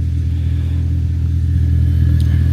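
Audi S5 with a modified exhaust, a steady loud low rumble of the engine idling or held at a gentle rev, continuous with no talk over it.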